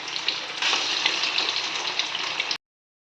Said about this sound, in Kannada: ಈಗ ಮ್ಯಾರಿನೇಟ್ ಮಾಡ್ಕೊಂಡಂಥ ಪ್ರಾನ್ಸ್ನ ಡೀಪ್ ಫ್ರೈ ಮಾಡ್ಕೋಬೇಕು.